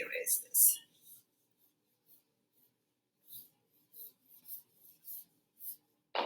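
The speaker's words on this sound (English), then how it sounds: "let me just erase this" A board being erased after writing, heard as a series of short, evenly spaced rubbing swipes close by, with brief breathy sounds at the start.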